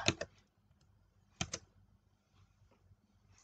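Someone types on a computer keyboard while entering text into Microsoft Access. Two quiet little bursts of keystroke clicks are separated by a short pause, with faint ticks trailing after.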